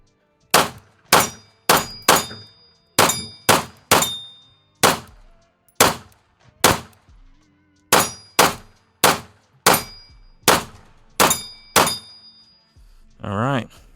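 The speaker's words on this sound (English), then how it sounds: "let's just go on ahead and get one more mag of just, you know, freestyle shooting" A Gowutar GP-7 pistol fires at targets on a range, about twenty sharp close shots with metallic ringing steel hits, fired in quick uneven groups, and a brief voice at the end.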